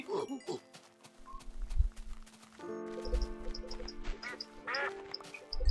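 Several video-game ducks quacking in Minecraft, short nasal quacks scattered across the scene, with soft blocky footstep clops underneath and game background tones, no talking.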